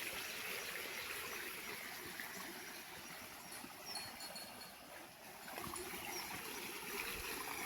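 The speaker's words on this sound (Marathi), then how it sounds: "मी बघायला आलो होतो व्हाळाला पाणी आलंय का." A small monsoon-fed stream flows steadily nearby, a continuous broadband rush and trickle of water with no voices over it.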